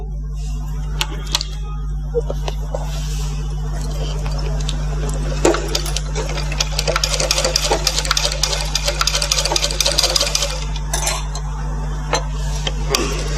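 Sewing machine stitching a blouse seam during tailoring, a steady mechanical hum with rapid clicking and ticking bursts that thicken in the middle, a low electrical drone underneath and occasional light metallic clinks.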